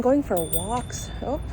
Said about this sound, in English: I don't know if you heard that bell behind me.